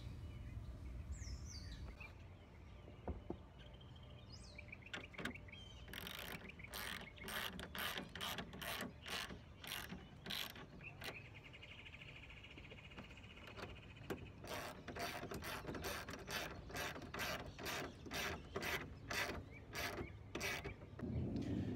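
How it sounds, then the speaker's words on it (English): A ratchet with a 9/16 inch socket tightens the clamps of a SofTopper truck-bed topper on a third-generation Tacoma, giving fast repeated clicking bursts close up, with a few pauses and faint birdsong in the background. "I'm gonna take a 9/16 inch socket to tighten down the clamps"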